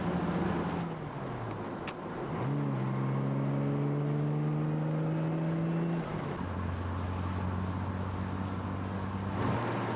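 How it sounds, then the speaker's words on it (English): A 44-year-old sports car driving at speed around 105 mph, engine droning loud and steady with rising pitch sweeps as it accelerates through gear changes, plus wind and road noise. "We've touched 105 miles an hour. This is a 44-year-old car, and it feels great."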